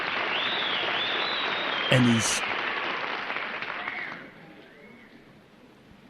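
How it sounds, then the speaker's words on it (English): Studio audience applause from a TV sitcom episode, a steady wash of clapping that fades away while a voice speaks briefly over it. "Because there's the clapping."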